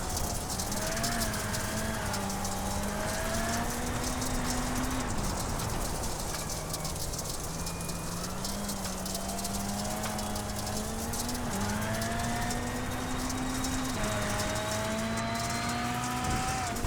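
Onboard engine of a NASA Rallycross Futures race car, the 277, lapping the Charlotte rallycross circuit: a steady, loud engine drone with rising and falling pitch through gear changes, continuous and close throughout with no talk.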